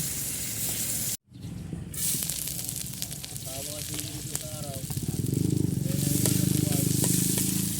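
Tilapia fries in a pan of hot oil, a loud close crackling sizzle that briefly cuts out, then resumes and swells, with a voice talking over it partway through.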